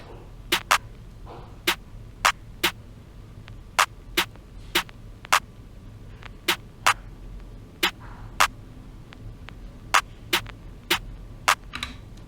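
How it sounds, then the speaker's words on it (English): Programmed snare and clap samples hit together in a beat, with crisp short transients falling in pairs and singles in a repeating pattern over a quiet low background, with no talking. "So the snare and the clap together sounds like this."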